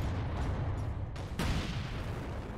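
A grenade blast in Warhammer 40k: Space Marine, a loud, close boom with a sharp crack that rolls out into a dense, rumbling tail against heavy game noise.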